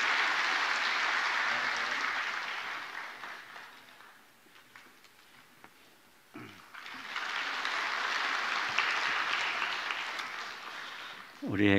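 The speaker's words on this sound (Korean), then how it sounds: "우리 아이를 박수로 환영하고 축복합니다" A church congregation at a Sunday service claps to welcome a baby, a sustained wash of applause that dips briefly midway and then swells again, heard in a large room.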